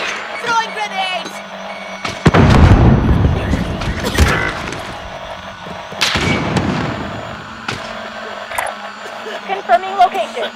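Heavy grenade explosions in a Call of Duty battle, two loud booming blasts a few seconds apart with debris rumble between, amid scattered gunfire and brief voices.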